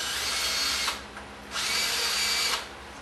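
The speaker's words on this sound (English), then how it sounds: "We're just going to ream them real quick with a 5/16 drill bit." A power drill with a 5/16 bit reaming corroded bolt holes whines in two steady bursts with a short pause between, loud and close, then cuts off.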